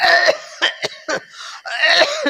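Several sharp coughs come in a quick irregular burst, close and loud, followed by a longer rasping cough.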